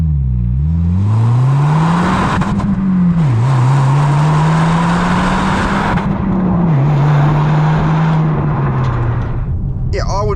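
A 2025 Subaru WRX tS Spec B's sports exhaust roars steadily, its note rising and dipping with the throttle, loud and close throughout.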